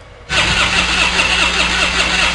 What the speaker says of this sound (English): Which key do you think has the privilege to crank up that car?